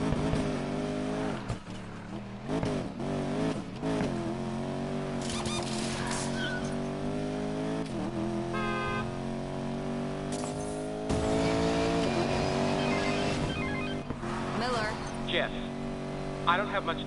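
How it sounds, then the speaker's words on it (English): A car drifting in Need for Speed: Payback, its engine whining and rising in pitch through repeated revs, with tire squeal over a continuous backdrop of game sound. "let's get into some drifting"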